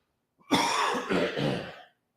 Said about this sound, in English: Cough time.